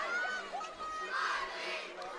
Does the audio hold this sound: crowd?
yes